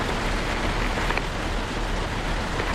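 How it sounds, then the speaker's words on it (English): Rain falls steadily outdoors, a soft, even hiss of drops pattering on surfaces that continues without a break for a few seconds, with no talking. "Oh, it's raining."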